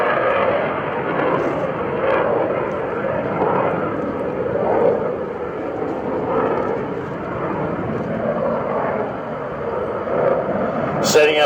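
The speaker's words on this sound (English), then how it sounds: "Look at the controllability and the agility of the F-A-18 Hornet." An F/A-18C Hornet jet flying in Microsoft Flight Simulator X, a continuous loud jet-engine roar with slowly swelling and fading surges across the clip, sounding fairly close, with a voice talking over it.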